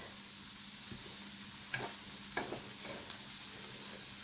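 Steady, quiet sizzling of unmarinated pork belly on a small hot electric grill, with a few faint clicks and scrapes from utensils moving the pieces.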